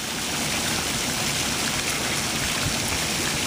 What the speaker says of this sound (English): a beautiful fountain at night, well lit